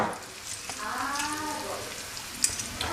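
Bolognese base frying in olive oil in a pan, a steady close sizzle with faint crackles and a couple of sharp ticks near the end.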